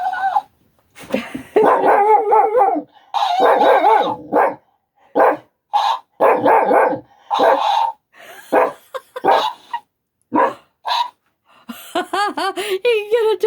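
Close, sharp barks and yips from a dog come in bursts with short gaps, some whimpering between them, and people speak briefly amid the noise.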